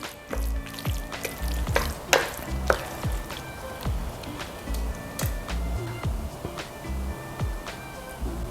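Cooked ground beef for a cottage or shepherd's pie is stirred in a hot pan, giving a steady close sizzle with repeated scraping and stirring strokes throughout.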